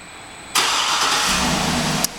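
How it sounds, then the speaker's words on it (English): A 2007 Cadillac Escalade ESV AWD engine fires up by remote start with a sudden crank and catch, settling into a steady close idle. "This feature allows you to start the vehicle from a distance as long as the vehicle is unlocked."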